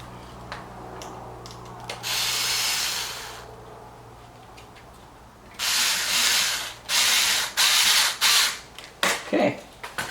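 Screws being driven into a carbon flash front splitter on a C8 Corvette, heard as a loud power-tool whir in short bursts, one long run early, then a string of quick repeated pulses near the end.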